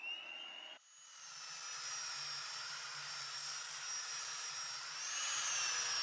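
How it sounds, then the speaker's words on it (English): A belt sander grinds resin and a Banksia pod with a steady, whining motor drone that starts abruptly and keeps running at an even level, growing slightly louder toward the end. "This belt sander is just taking way too long, plus the dust is going everywhere."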